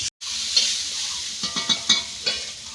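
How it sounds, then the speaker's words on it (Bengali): Carrots frying in a pan sizzle steadily up close, with several quick stirring scrapes in a rough rhythm near the end. "আর এখানে হচ্ছে গাজর ভাজা।"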